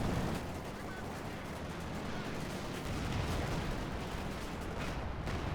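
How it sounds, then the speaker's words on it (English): A Stuka rocket artillery barrage in Company of Heroes 2 makes a continuous dense rumble of launches and distant impacts, a noisy sustained roar without clear pauses. "Stuka firing"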